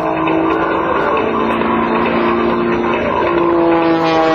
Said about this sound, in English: Rolling the aircraft to the inside. Hardcore aerobatics.